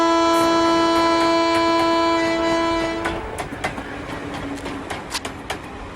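A train blows a long steady horn, then its wagons roll past with a rhythmic rattle and sharp clanks of wheels over rail joints, loud and close, with no voices.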